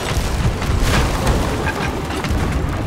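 Ship cannons firing during a naval battle in Sea of Thieves, a dense rumbling barrage of booms and crackling impacts that stays loud and steady throughout, with no voices.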